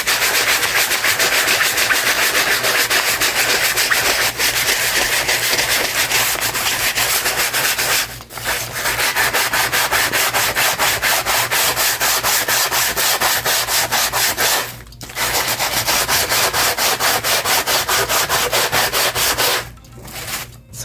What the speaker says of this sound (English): I'm just kind of sanding this down